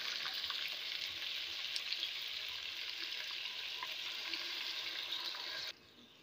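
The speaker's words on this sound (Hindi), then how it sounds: "आप देख सकते हैं कि हमारा चिकन अच्छे से फ्राई हो रहा है।" Chicken for a green handi frying in a pot, a soft continuous sizzle at low level that cuts off abruptly near the end.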